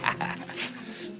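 A dog in a romance film gives short, high whimpers and soft yips nearby, a few brief whining cries that fade quickly.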